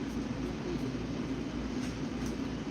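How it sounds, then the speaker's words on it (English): Inside a train bound for Long Island, a constant rumbling roar of the carriage in motion fills the space, with faint periodic rhythmic clacks and no voices. "I'm on a train going to Long Island right now."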